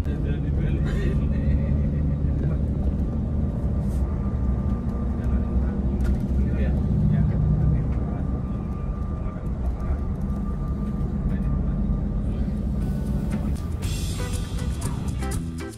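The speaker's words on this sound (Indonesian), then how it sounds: "Bus mulai berjalan menuju ke Terminal Ubung." Inside a Sinar Jaya sleeper bus on the Denpasar–Jakarta route as it pulls away toward Ubung Terminal, a steady low engine and road rumble fills the cabin while a person talks over it.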